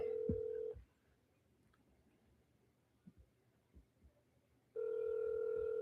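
A telephone tone sounds, cuts to a quiet line with soft clicks, and returns as a steady near tone while a call is being placed.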